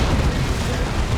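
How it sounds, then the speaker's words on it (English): Plasma cannons fire in a Dawn of War 2 3v3 battle, a steady, loud rumbling barrage of low booms and blasts that holds dense and continuous throughout, with no clear gaps between shots. "Plasma cannons set up to do their thing."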